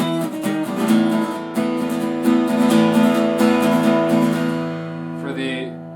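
Guitar plays the opening section of the bridge from a song, with rhythmic strummed chords ringing over sustained low notes, close and full, fading out at the end.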